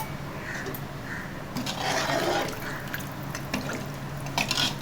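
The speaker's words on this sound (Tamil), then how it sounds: "நாலரை கிளாஸ் தண்ணி ஊற்றி நல்லா ஒரு கிளறிட்டு மூடி வச்சிடலாம்." Water is poured into a pot of chicken biryani, a continuous splashing and trickling pour with a few drips, close and fairly clear with no talking.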